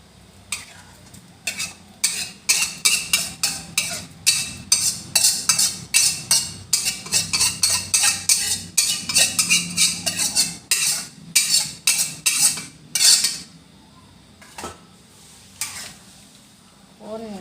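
Rapid, repeated scraping strokes of a spoon stirring pounded curry paste into a large pot of chicken-feet broth, with a faint sizzle underneath; the stirring stops near the end, leaving a few clinks.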